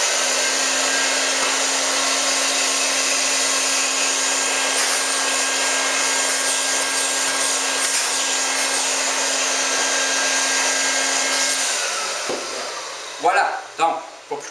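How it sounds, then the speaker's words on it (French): A vacuum cleaner sucking paint stripper residue off a rug, a loud steady whine running close for about twelve seconds before it winds down, followed by a few knocks. "Je vais simplement aspirer un petit peu du résidu qui est inutile."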